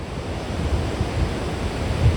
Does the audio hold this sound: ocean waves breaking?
yes